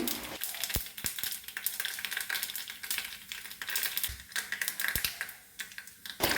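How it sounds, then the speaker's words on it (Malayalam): Mustard seeds spluttering in hot coconut oil in a pan, a dense rapid crackle of sharp pops over a steady sizzle, close and fairly loud with a few stronger bursts. "കടുക് പൊട്ടിക്കഴിയാറായി."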